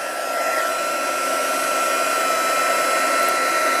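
A heat embossing tool on setting 2 blows hot air in a steady, loud whir like a hair dryer, unbroken for a few seconds with no talking.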